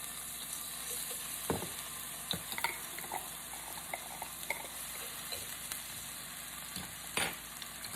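Two tablespoons of minced garlic sizzling in a pan before spinach goes in for a beef and spinach lasagna, a steady soft frying hiss with occasional clicks and scrapes of stirring, quiet and close.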